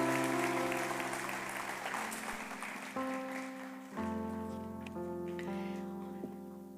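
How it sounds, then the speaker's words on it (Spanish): Clapping from a church congregation praising the Lord, a broad steady patter that fades gradually while sustained organ or keyboard chords ring underneath. "Vamos a darle un aplauso al Señor."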